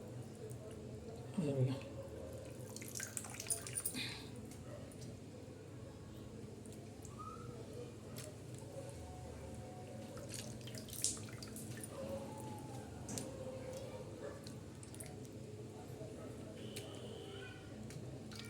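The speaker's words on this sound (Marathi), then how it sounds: "असं पाणी टाकून आणि पूर्ण असे धुवून काढायचे" Cut bitter gourd is rinsed with water in a kitchen, making quiet drips, splashes and squishy handling sounds with a faint voice underneath.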